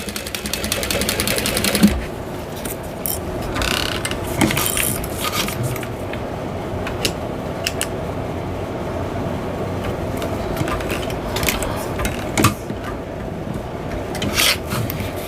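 A sewing machine top stitches a Howie bowler bag at an eighth-inch seam, running slowly in a steady, continuous rasping hum with small clicks and shifts throughout, close and alone without voices.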